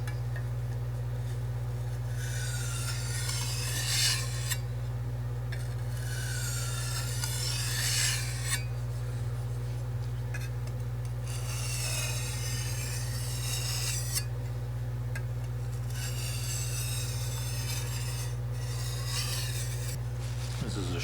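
A long blade edge is sharpened by hand, a steady rasping stroke worked from one end toward the other, repeating in bursts with brief pauses over a constant low hum.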